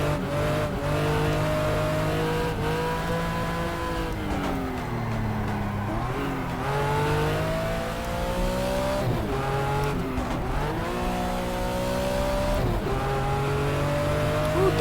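Porsche 911 IROC race car engine in the GTR2 racing game, a loud, continuous roar that rises and falls through gear changes and steady revving, close and alone throughout.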